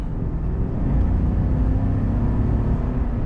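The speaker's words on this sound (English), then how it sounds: "So just getting up to some speed, effortless of course with a big old V8" A Chevrolet Silverado Trail Boss truck with a big V8 accelerates while driving, a steady, loud low engine drone and road rumble heard from inside the cab, with no speech.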